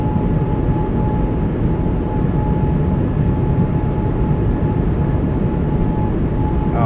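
Simulated Airbus A220 on its takeoff roll at takeoff power: a loud, steady engine roar holds without a break for the whole stretch, with no voices over it.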